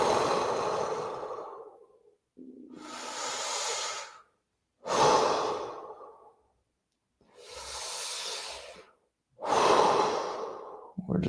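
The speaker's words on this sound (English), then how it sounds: "we're going to breathe a few big, deep breaths" Five big, deep breaths in a meditation class, each a long, close, airy inhale or exhale lasting a couple of seconds, separated by short silent pauses, with no talking.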